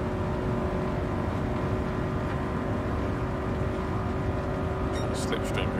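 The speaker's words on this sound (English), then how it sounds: "Go 125 miles an hour in a BRZ" A Subaru BRZ's engine at speed in Gran Turismo 7, a steady dense roar with road and wind noise held at a constant pitch, loud and continuous.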